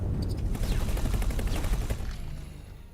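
Weapon fire in the space game X4: Foundations, a rapid run of loud, rumbling pulses for about two seconds before fading into a quieter hum.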